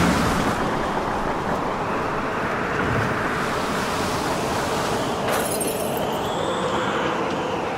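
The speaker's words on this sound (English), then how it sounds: "The wind moves out of the closet and into the room." Strong wind rushes through an indoor room, a loud, steady, broad roar with slight surging and no break across the whole stretch.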